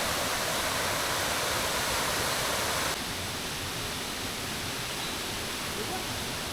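Waterfall along a hiking trail in Thailand, a steady broadband rush of falling water that continues unbroken, slightly softer in the second half.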